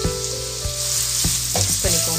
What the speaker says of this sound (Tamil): எண்ணெய் சூடாயிடுச்சு, நம்மளுடைய பச்சை லவங்கம், ஏலக்காய், பிரிஞ்சி இலை இங்கே சேர்த்துக்கலாம். வெங்காயம் சேர்த்துக்கலாம்.